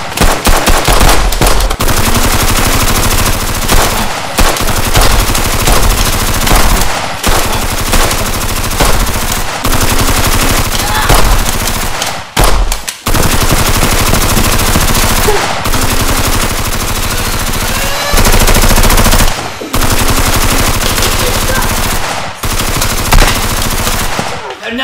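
Rapid bursts of toy blaster and gunfire sound effects fill a Nerf tank battle, dense and loud throughout with brief gaps, under occasional shouting voices.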